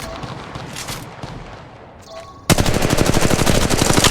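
Rapid automatic gunfire in an Apex Legends Mobile firefight, steady loud bursts after a brief lull, with a sudden burst of dense continuous shooting in the second half.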